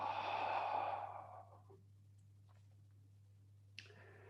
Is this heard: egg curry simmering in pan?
no